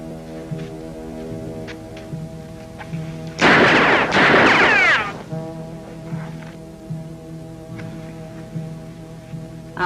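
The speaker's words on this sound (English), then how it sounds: "Now you're going to see some real sharp shooting." Gunfire in a sharpshooting scene from the film Annie Oakley: a loud, harsh burst of shots crashes out for under two seconds over a faint musical hum, then fades back to quiet.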